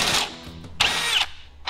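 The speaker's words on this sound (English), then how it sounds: "I have to drill the hole out a little bit bigger so the bolt will go in." A power drill bores out a bolt hole during an off-road tow truck repair, running in two close, loud whining bursts separated by a brief pause, with a third burst starting at the end.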